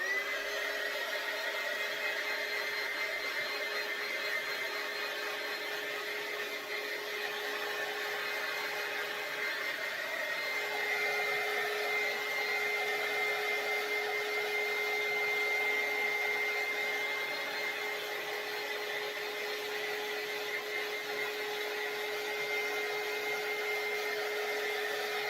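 Steady whirring blow of a dryer aimed at the bottom portion of a DIY Mardi Gras fleur-de-lis door hanger, a continuous even drone with a high whine running unbroken throughout, no talking.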